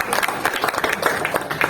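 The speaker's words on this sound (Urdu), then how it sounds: "ہائے زوردار تالیاں" Brief burst of audience clapping at a talk, lively and close with uneven claps, with a voice mixed in over it.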